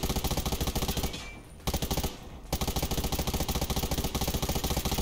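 A firearm in the survival shooter Undawn fires rapid automatic bursts, loud and close, stopping briefly twice before the clatter resumes.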